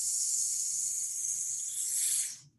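One long, steady S hiss of breath pushed out during a sight-singing warm-up, loud and close, holding evenly for over two seconds before trailing off as the air runs out.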